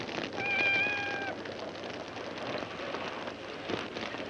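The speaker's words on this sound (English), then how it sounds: "We've only got a cat." A cat gives a short, clear meow early on, faint against a steady background patter like rain that continues alone afterward.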